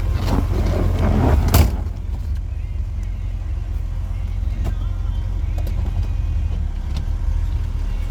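A 1965 Ford Mustang convertible with a 289 V8 and automatic transmission pulls away close by, its engine rumbling steadily at a low pitch, with a brief louder burst near the start.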